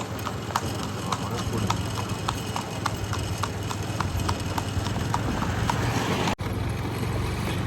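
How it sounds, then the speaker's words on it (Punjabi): Rhythmic clip-clop of hooves at a steady walking pace, close by, over a low rumbling background. "ਘੋੜੇ ਦੀ ਚਾਲ"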